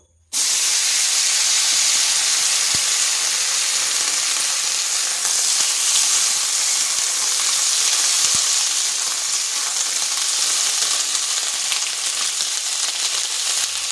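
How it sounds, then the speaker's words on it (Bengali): Loud, continuous sizzle and hiss of ivy gourd frying in a wok, starting abruptly and holding steady throughout with faint occasional clicks. "ওই কড়াইয়ের মধ্যে আরেক চামচ তেল দিয়ে দিচ্ছি।"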